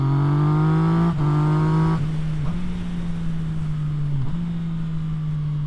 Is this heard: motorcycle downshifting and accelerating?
yes